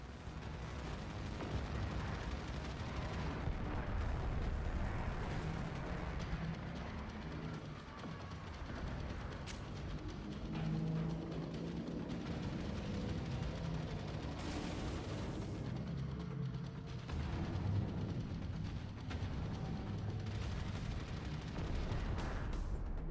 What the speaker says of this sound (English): Torpedoes locked. Target in range.